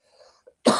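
A single sharp, close cough bursts out loudly after a moment of faint throat noises and near silence, ending the short stretch abruptly.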